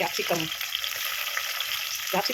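Capsicum frying in oil with ginger garlic paste while egg rice is made at home: a steady sizzle under brief stirring clinks at the start and end, and no one talks.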